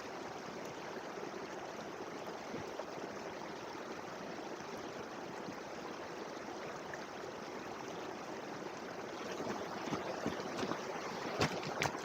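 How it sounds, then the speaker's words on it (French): Mountain stream in the Alps, a steady broadband rush of flowing water close by, constant throughout with slight swelling toward the end and no talking. "je vous laisse avec cet instant ruisseau des montagnes"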